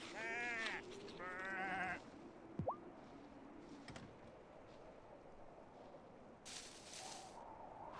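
Sheep bleat in the video game Wylde Flowers. Two wavering, quavering bleats come in quick succession at the start, followed by quieter game effects, a short rising tone and a later hiss.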